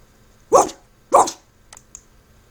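Dogs in the visual novel game Skights let out two loud, close barks about half a second apart, then a couple of faint, short clicks before quiet.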